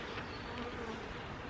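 Honey bees buzzing steadily in and around a hive with a laying worker, a soft, continuous droning hum that stays even and fairly faint the whole time, with no talk.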